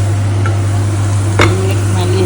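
Shrimp for a prawn fry sautéing in a pan: a loud, steady sizzle over a constant low hum, with a single spatula scrape or clink partway through.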